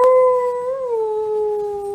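A pet dog lets out a long, sustained howl nearby, a steady tone that slides slightly down midway and holds loud for about two seconds.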